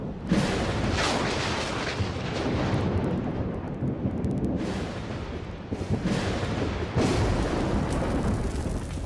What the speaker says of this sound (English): All this takes is a thunderstorm.